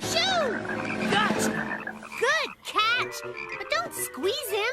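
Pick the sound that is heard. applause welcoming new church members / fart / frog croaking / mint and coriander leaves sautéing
frog croaking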